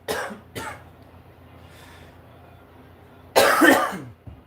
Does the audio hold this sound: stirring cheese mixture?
no